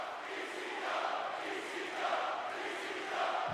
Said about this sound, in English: And you hear this crowd.